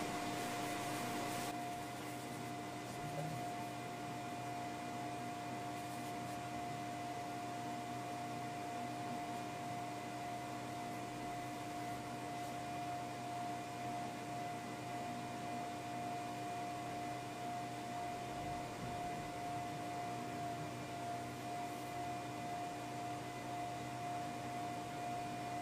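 A small cooling fan on a 3D printer runs at 75% speed to cool the nozzle after printing, giving a quiet, constant whir with a steady hum and no change in level.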